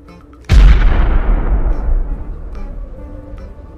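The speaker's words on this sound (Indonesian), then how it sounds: "Wow, ini granat." Toy grenade from a Nerf-style weapon set thrown and exploding: one sudden loud boom with a long rumbling decay lasting several seconds, close and alone.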